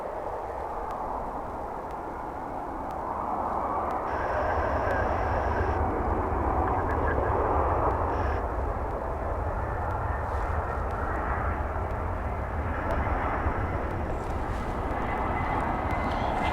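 An Avianca airliner in Star Alliance livery roars steadily at DFW Airport, a loud, sustained engine rumble that swells and holds at close range, with faint talk now and then.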